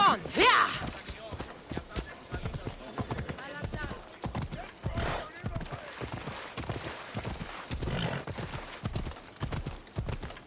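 A donkey's hooves clip-clop in Assassin's Creed Odyssey, a steady rhythmic run of close hoofbeats across the whole stretch while a person talks over them.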